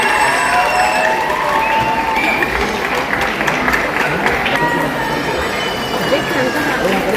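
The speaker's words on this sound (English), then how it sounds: "A huge round of applause." Applause from a school annual day audience fills the space, a steady wash of clapping with crowd noise, loud and continuous, with cheering mixed in.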